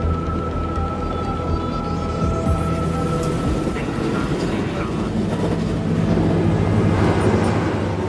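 Rapid train 5418M rolls toward Itami station, a steady low rumble of rail running with a faint sustained cab tone over it, continuous and moderately loud throughout.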